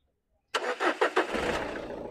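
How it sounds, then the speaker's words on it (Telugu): A car engine turning over on its electric self-starter, a few quick rhythmic cranking pulses that catch on the first try and settle into a steady running idle, close by. "సింగిల్ సెల్ఫ్ బండి స్టార్ట్ అవుతుంది."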